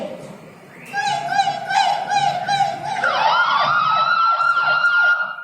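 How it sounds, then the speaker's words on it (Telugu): An ambulance siren wails nearby, first in rising and falling tones and then switching to a faster sweeping pattern, loud and close, with vehicle noise beneath. "బాబు సత్తి ఈ పీపీటీకి ధరించి అంబులెన్స్ ఎక్కునాయనా"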